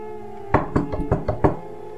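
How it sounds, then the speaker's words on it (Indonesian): Loud, hard knocks on a wooden house door, five or six blows in an uneven quick run, close and alone with no voices. "Rigen mengetuk pintu rumah kayu tersebut dengan keras"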